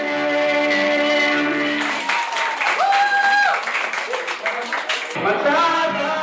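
A church congregation applauds a dance performance at a worship service, clapping rising under music and singing voices, with sustained tones over the crowd's applause.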